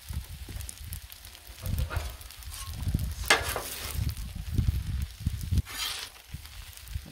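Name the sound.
rice stirred and sizzling on a Blackstone griddle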